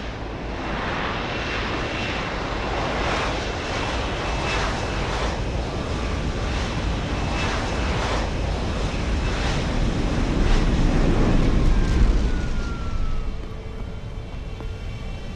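An aircraft arrives to pick up the player in the game Deus Ex: Human Revolution, as a steady engine roar and rushing wind hold loud and even throughout, swelling slightly near the end before easing off.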